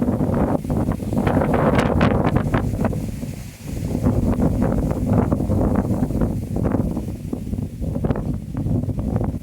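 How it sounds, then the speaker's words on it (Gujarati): Strong wind roars and gusts against the microphone in loud, continuous buffeting, with a brief lull partway through. "ફૂલ ફાસ્ટ હવા આવે છે"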